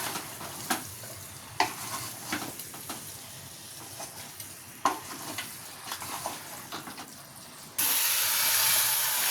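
Chicken coated in spicy kanthari chilli masala sizzles and fries in a hot pan over high flame, with steady hissing and bursts of crackle as it is stirred, ending in a louder, sustained sizzle.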